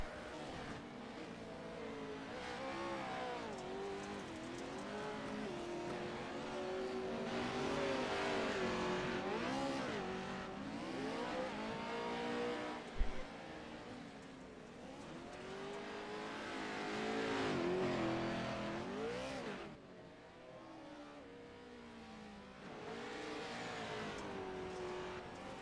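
Dirt race cars roar around the Crandon track in the United Dirt Sim racing game, engines revving up and down in long sweeping waves with occasional tire scrub, a steady pack of motors heard continuously with no talk.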